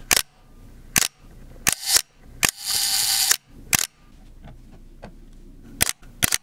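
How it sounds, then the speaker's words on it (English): An Asahi Pentax S film camera fires its shutter repeatedly, giving sharp mechanical clicks at irregular intervals, close and loud, with one longer whirring burst in the middle and no talk. "I think that the S might have an even nicer shutter sound than the AP does"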